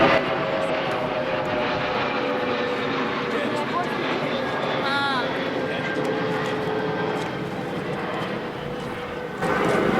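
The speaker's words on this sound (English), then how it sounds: "Again, the airplane." An airplane passes overhead near a historic tomb in an archaeological park, its engine a loud, sustained drone that swells and shifts pitch as it goes by, then eases away before a brief rise at the end.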